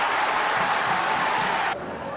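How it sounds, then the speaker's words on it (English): Loud, dense roar of a football crowd at a Stockport County versus Burton Albion match, a continuous wash of cheering and clapping that drops off slightly near the end. "Listen to the crowd."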